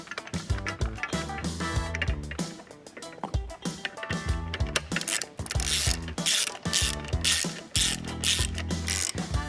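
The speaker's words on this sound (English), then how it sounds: "so that way we can get our bolts mounted into the seat frame" Bolts are driven into a truck seat frame on a custom Cummins Dodge dually, with loud, continuous ratcheting and clattering metallic tool noise at close range, quick repeated clicks filling the whole stretch without talk.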